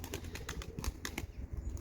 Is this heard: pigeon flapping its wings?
yes